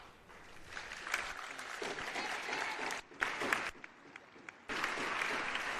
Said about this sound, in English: Crowd cheers as Caroline Creton has been able to get to her feet.